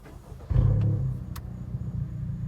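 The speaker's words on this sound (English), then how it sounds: "I'm gonna put on the brakes and press it and turn on the vehicle" A Honda Accord Sport with a 1.5-litre turbo engine starts up after a KTuner install: a sudden ignition thump followed by a steady, low idle rumble that settles and continues, with no talk over it.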